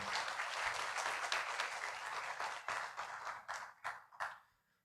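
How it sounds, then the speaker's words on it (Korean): Applause from an audience welcoming a university president at a new and transfer student orientation, dense steady clapping that thins into a few scattered claps before fading out. "큰 박수로 총장님을 맞이하여 주시기 바랍니다"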